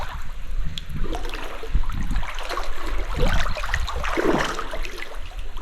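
Water sloshing and splashing in a dark cave as someone wades waist-deep and swims, close churning gurgles and swishes rising and falling with the movement, continuous throughout.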